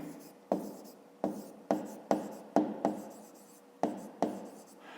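A pen writes numbers on paper during a fifth-grade maths exercise, giving short close scratching strokes in a quick irregular rhythm, about nine distinct marks with quiet gaps between them.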